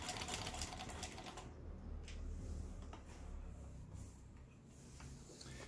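Old Lion household sewing machine running after repair, giving a rapid mechanical clatter up close that starts loud, dips slightly and keeps going, with faint knocks over it.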